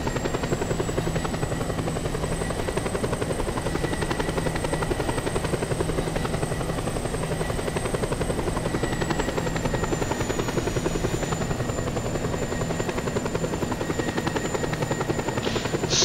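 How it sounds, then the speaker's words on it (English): A helicopter flies in the video game Just Cause 2, its rotor chop and engine drone steady and loud throughout, with a thin high whine riding above. "Yeah, I have my own helicopter."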